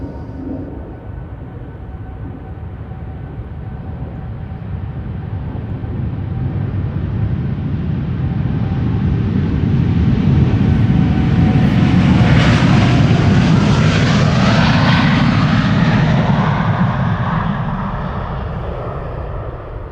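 A KLM Boeing 787-9 Dreamliner, seven years old, departing from Amsterdam Schiphol: loud jet engine roar swelling steadily as it passes close by, peaking midway, then slowly fading into the distance.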